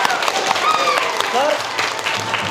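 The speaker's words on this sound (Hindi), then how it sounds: "ताली बजाइए।" Classroom applause at a government school breaks out after a teacher's sung lesson, a steady patter of many small hands clapping, with children's voices mixed in throughout.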